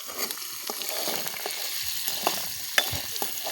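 Tomatoes and chillies sizzling in hot oil for tempering, cooked outdoors in a farm field; a soft, steady crackle and hiss with occasional sharper pops and stirring clinks.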